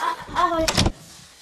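A door closes as someone leaves, giving a single short, sharp bang right after a brief voice, followed by quiet.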